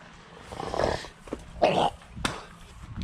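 A dog named Ruckus, recently switched to a new dog food, gives a few short close snorts or sneezes, separated by quiet gaps and set over faint background noise.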